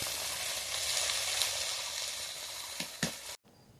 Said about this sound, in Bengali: এবার মাছগুলো ভাজছি